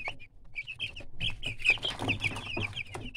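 Ten-day-old broiler chicks chirp and cluck constantly, a close, busy chorus of high-pitched peeps overlapping one another with no pauses throughout.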